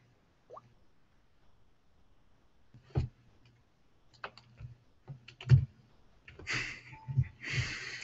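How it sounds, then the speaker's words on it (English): A password is typed on a computer keyboard while encrypting a Samsung Galaxy S device, giving a few sparse, quiet key clicks spread unevenly across the stretch, with faint breathing-like noises and some denser tapping near the end. "You've got to type in your device password."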